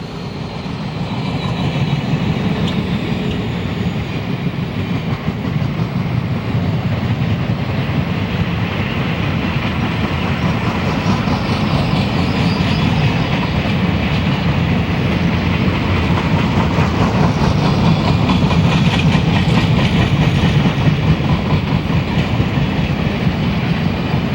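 The Silver Meteor passenger train, hauled by General Electric locomotives, rolls past on the electrified Northeast Corridor with a loud, steady roar and continuous clickety-clack of wheels lasting over twenty seconds.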